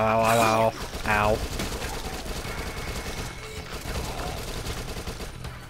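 Rapid SMG fire in the zombie shooter Dead Nation, a steady stream of shots under a voice, with game noise and effects filling the background throughout.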